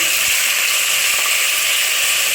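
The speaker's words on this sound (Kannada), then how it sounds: "ಈರುಳ್ಳಿನ ಚೆನ್ನಾಗಿ ಫ್ರೈ ಆಗೋ ಥರ ಮಾಡಬೇಕು. ರೋಸ್ಟ್ ಬರೋ ಥರ ಫ್ರೈ ಮಾಡಬೇಕು" Sliced onions fry in a pan for chicken biryani, giving a steady, close, crackling sizzle that holds evenly throughout with no talk.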